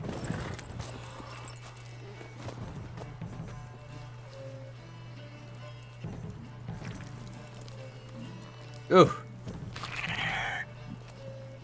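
Horse hooves clip-clopping in The Witcher 3, with a loud neigh cutting in partway through over a steady game hum, while a person speaks briefly.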